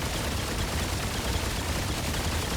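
Rapid automatic weapon fire from Remnant 2, a dense unbroken rattle that holds loud and steady throughout, with shots blurring together at high rate.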